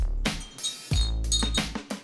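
A spoon clinks against a glass while briefly stirring a cocktail, a few close, bright taps and a light ringing with no voices.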